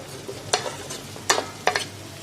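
A spoon slowly stirs paneer pieces into biryani in a pot, giving three or four distinct scraping strokes over a soft background sizzle, close by.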